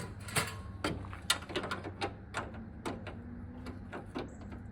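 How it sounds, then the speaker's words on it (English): Pliers gripping and working at an ordinary bolt on the air intake of a 1997 Toyota Tacoma's 3RZ engine, heard as a close series of sharp metallic clicks and scraping ticks in an irregular rhythm, with no talk. "just take these pliers and give it a go and see if I can get this off"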